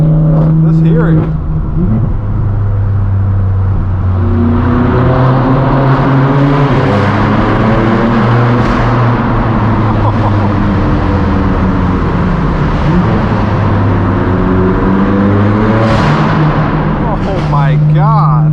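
A straight-piped, Gintani-tuned BMW M4 F82 engine revs loudly and continuously, its exhaust note rising and falling through repeated surges with a few sharp cracks, while a voice speaks intermittently beneath the engine.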